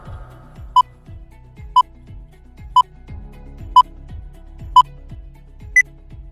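A quiz countdown timer sounds six sharp, evenly spaced beeps, one per second, over a soft background of low ticking pulses, with no talking.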